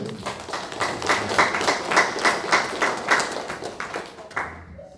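Korean church congregation gives encouraging applause to the kitchen volunteers during Sunday worship, a moderate burst of many hands clapping in a roughly pulsing rhythm that swells and then tapers off before stopping abruptly near the end.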